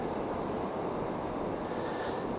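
Strong wind buffets the microphone at Oysterville Beach, a loud, steady, broadband rush with surf-like texture and no voices.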